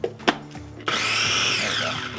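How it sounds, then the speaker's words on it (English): A small grinder or blender whirs steadily while grinding dried Korean chili pepper flakes for a chili lime sauce, a close, loud motor drone lasting under two seconds after a couple of brief knocks. "We'll grind that up."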